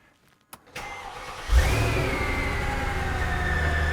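Supercharged Mercedes-Benz engine tuned toward 600 horsepower cranks with a short starter whir, catches and fires, then settles into a steady, loud close-up idle with a rising whine.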